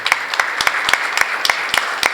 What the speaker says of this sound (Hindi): हम उनका जोरदार ताली से स्वागत करते हैं